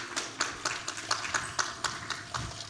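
Clapping at a live cocktail-making demonstration, heard as a crisp, evenly spaced run of claps at a brisk steady rhythm, moderately close and fairly quiet against a soft room background.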